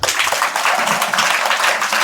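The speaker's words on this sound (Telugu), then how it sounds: "చప్పట్లు" Students clap together during a session at a government school, a dense, steady burst of applause filling the room at close range.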